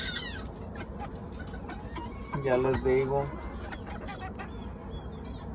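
Hens cluck in short bursts at a poultry yard where game roosters are kept, with a louder, closer run of clucks near the middle over a steady background murmur and someone talking briefly.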